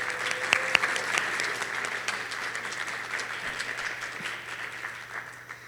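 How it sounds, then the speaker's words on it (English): Audience applause at a graduation ceremony, a dense, steady wash of many hands clapping that holds strong before gradually thinning and fading toward the end. "Let's give Fu a round of applause"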